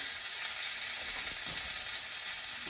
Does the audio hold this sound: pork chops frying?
yes